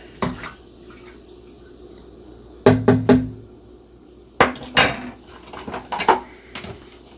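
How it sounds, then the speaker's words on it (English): Spoon clinking against a container while stirring a raspberry wine mixture in a one-gallon batch: a few sharp metallic taps in small clusters over a quiet background, with faint sloshing between them. "And give that a little stir."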